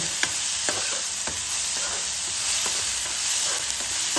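Onions sizzle and fry in a pan for a brinjal (ennegayi) curry, a steady broadband crackle with several distinct stirring scrapes spaced through the run, close and continuous with no talk.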